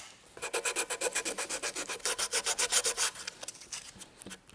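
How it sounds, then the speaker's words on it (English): Sandpaper rubs glue foam off an oak stool in quick, even back-and-forth strokes, about twenty rhythmic scratchy passes close up, slowing and thinning out at the end. "In this case, a little piece of sandpaper."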